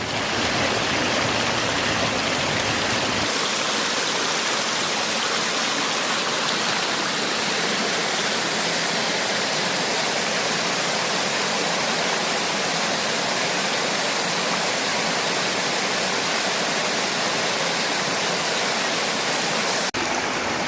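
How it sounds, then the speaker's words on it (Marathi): Steady broadband rush of stream water as people wade through it on a forest trail while crab hunting, continuous and close, with no talk over it. "आम्हाला रस्ता नाही भेटला म्हणून आम्ही आता हे पाण्यामधूनच चालतो"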